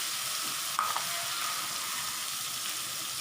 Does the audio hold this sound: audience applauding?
no